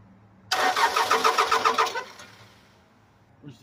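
Case 580C backhoe with a 207D diesel cranks and fires into a loud, rough mechanical clatter for about a second and a half, then fades toward a quieter idle.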